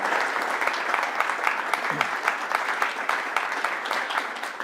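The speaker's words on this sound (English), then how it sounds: "Can we give our panelists a round of applause?" An audience at a lunchtime talk on city design applauds its panelists, a lively burst of many hands clapping with distinct sharp claps standing out, steady and close for the whole stretch.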